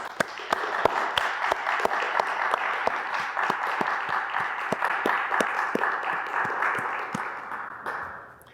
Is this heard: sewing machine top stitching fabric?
no